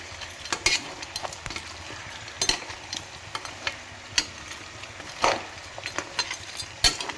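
Goat head and trotters fry in a pan with rock salt and turmeric, a low sizzle under repeated close clacks and scrapes as the pieces are turned, irregular and fairly steady throughout, with no voices.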